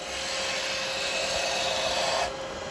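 A spindle gouge takes a heavy roughing cut on wood spinning in a lathe, making a loud, steady shearing hiss that stops abruptly just before the end. No talking is heard.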